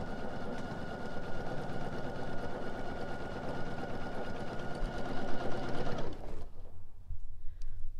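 A sewing machine stipple quilting around doilies on an heirloom piece runs steadily and close for about six seconds with a fast, even stitching hum, then stops abruptly, leaving a few faint clicks.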